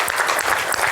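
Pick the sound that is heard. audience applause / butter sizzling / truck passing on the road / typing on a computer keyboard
audience applause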